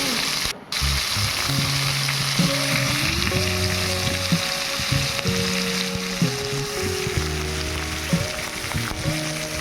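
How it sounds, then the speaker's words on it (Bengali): Vegetables fry in white oil with a dense, steady sizzle that runs loud and unbroken, like rain on a surface, while tonal background music plays underneath. "এরপর আমি সাদা তেলে সব সবজিগুলো দিয়ে দিলাম"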